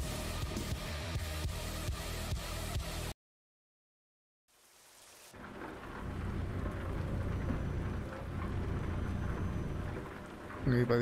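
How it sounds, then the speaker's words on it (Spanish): Steady rain with low thunder rumbles, heard while out driving, loud and continuous apart from a sudden silent gap before the rain noise returns. "Para disfrutar el ruido de la lluvia"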